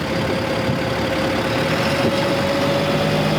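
A Stryker armored personnel carrier engine runs with a steady, heavy drone and a constant mechanical whine, close and loud throughout with no voices.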